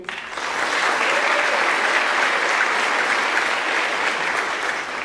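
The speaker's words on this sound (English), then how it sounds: "let's go ahead and bring up and clap for each one of these people individually" Dense, loud crowd applause at a senior awards night, starting quickly and holding a steady roar of clapping for the full five seconds with no talk over it.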